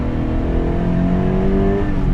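A Toyota GT86 engine revs with a deep, grumbly exhaust tone. The note is steady and close, climbing slightly in pitch, and no one speaks over it.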